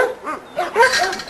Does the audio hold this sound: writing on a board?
no